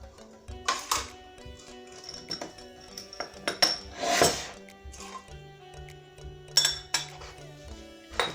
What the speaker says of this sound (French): Je mélange le sucre avec mon yaourt.